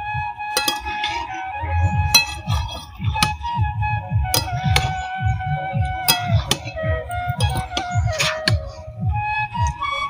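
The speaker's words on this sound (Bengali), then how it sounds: "মা দেখো নেড়ে চেড়ে মশলাটার সাথে কচুটা মিশিয়ে নিচ্ছে।" A spoon stirs taro root with spices in a cooking pan, making repeated sharp metallic clinks and scrapes in an irregular rhythm, close and fairly loud.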